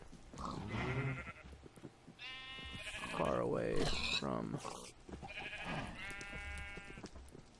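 Sheep bleating in the Minecraft Better Than Wolves mod, several clear bleats in two bursts amid pig noises, while someone talks alongside.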